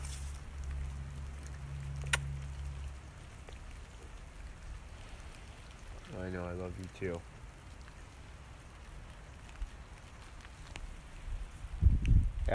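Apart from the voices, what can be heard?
rain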